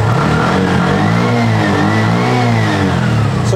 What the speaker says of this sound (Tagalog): Pakinggan natin yung tunog ng makina.